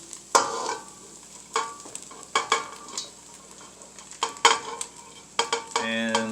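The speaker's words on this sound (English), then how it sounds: "I'm going to stir fry them together with the beef" Vegetables stir-fried with browned beef for chili, sharp bursts of sizzle and scraping as the pan is stirred, with clinks of a utensil and a brief hiss near the end.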